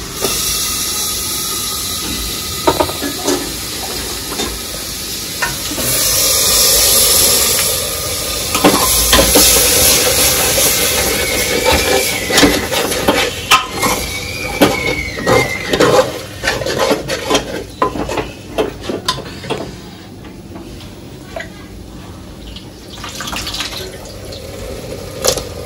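Mutton tripe dropped into hot masala and oil sizzles loudly with a surging steamy hiss, then settles into crackling and spattering with scattered clinks of a utensil, no voices.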